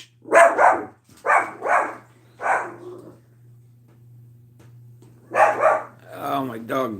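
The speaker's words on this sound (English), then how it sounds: "my dog barks at anything" A dog barks in short bursts, two quick pairs of loud nearby barks and a single bark, then another pair, with a steady low hum underneath and a voice speaking briefly near the end.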